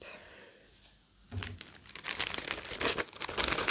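Cross stitch fabric is folded up, crinkling and rustling close by after a brief quiet start, with a dense run of papery crackles that grows louder toward the end.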